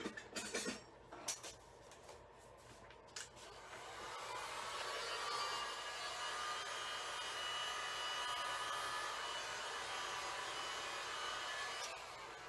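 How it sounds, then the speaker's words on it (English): Heat gun blowing hot air in a woodworking shop where serving boards are being made, a steady loud whooshing roar that starts after a few light clatters and continues evenly. "I'm gonna try and manipulate this a little bit with a heat gun"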